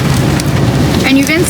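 Steady rain falls in a monsoon-season outdoor setting, a continuous loud wash of drops with faint background sounds and a brief whistling tone near the end.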